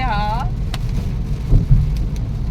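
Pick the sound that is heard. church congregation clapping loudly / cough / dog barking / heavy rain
heavy rain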